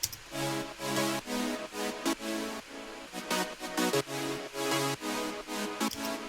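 Simple layered saw-wave synth chords built from three stacked layers play as sustained, rhythmic stabs with brief gaps between them, full and bright, heard alone without talk.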